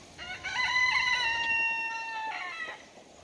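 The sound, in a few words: broody hen making clucking noises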